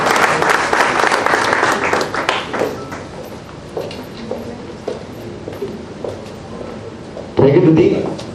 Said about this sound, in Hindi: तालियों में कंजूस क्यों ऐसा लग रहा है मुझे?